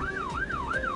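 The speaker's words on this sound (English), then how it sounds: "If you hear a siren or see flashing blue lights, assume there's something coming your way" An emergency vehicle siren wails in a steady rising and falling sweep, repeating about every third of a second, loud and continuous with no voices.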